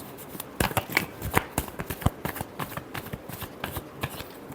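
A deck of tarot cards shuffled close up, producing a steady run of quick, papery slaps and flicks in an uneven rhythm for several seconds, alone without any voice.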